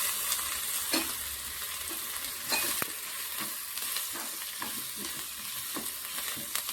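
Turmeric and ginger-garlic paste stirred in a pan for a fish pulusu, giving a steady close sizzle with soft scraping strokes that recur every second or so, with no voices.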